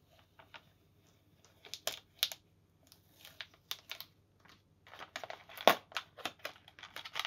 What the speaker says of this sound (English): so peeling off the butterfly, then we can finish the mid part